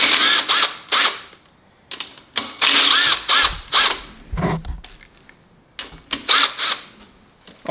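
A ratchet clicks in quick bursts as 10 mm timing tensioner bolts come off a Ford 4.6L four-valve engine during teardown, close and loud, with short pauses and a faint metallic clunk between runs.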